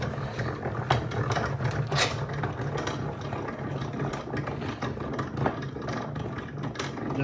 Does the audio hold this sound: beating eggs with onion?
no